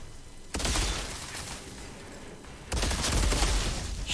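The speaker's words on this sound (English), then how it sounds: "Oh, this fucking assault rifle." Assault rifle fire in the sci-fi shooter Outriders, two loud sustained bursts of rapid automatic shots with a short lull between them, no talking.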